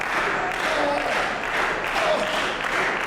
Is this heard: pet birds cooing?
no